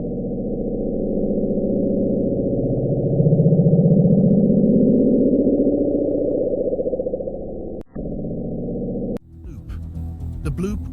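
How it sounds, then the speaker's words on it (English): The Bloop, a low-frequency underwater sound recorded in summer 1997: a low, droning rumble slowly rises in pitch and swells, then cuts off abruptly; a voice begins speaking at the very end. "The bloop was recorded in the summer of 1997."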